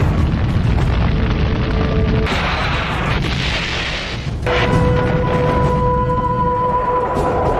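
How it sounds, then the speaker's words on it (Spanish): Heavy booms and rumbling blasts roll continuously as La Moneda palace is bombarded by tanks, a dense, loud, distorted wall of explosions with shifting tones throughout. "La moneda está siendo bombardeada, los tanques están disparando con sus bombas"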